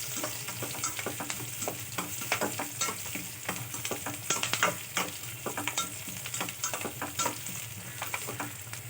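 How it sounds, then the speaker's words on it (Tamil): Garlic and onions sautéing in a pan for a kuzhambu, stirred briskly: a dense, steady sizzle with rapid, rhythmic spatula scrapes and taps, close and continuous throughout. "பூண்டு நல்லா வதக்கி விட்டுக்கோங்க"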